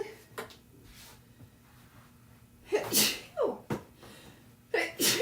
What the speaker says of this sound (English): Sorry for my sneezes.